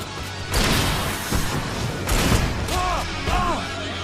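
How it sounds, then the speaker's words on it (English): Fireworks bursting in the video game Alan Wake, a run of loud booms and crackling blasts close together, with voices talking over the explosions. "And Barry just lets them explode with his fireworks."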